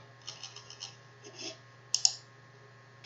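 A few sharp, faint mouse clicks in a quiet room, preceded by soft tapping, with a steady low hum underneath.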